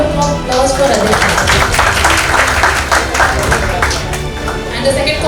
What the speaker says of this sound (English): I think we should give a round of applause for Adita.